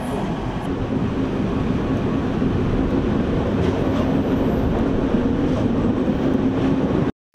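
A locomotive rumbles steadily past at close range, a loud continuous roar with faint rhythmic clatter, cutting off abruptly at the end.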